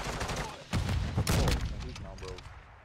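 Gunfire in a Call of Duty Warzone style video game, a burst of rapid loud shots clustered in the middle, with voices talking over and around it.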